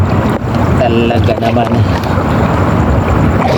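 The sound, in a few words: wind blowing outdoors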